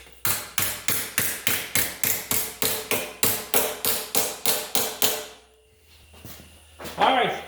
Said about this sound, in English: Alright, I got my old hammer out.